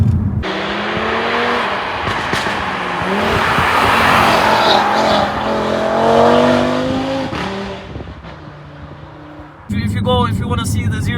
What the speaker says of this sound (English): The car is putting down the power so well.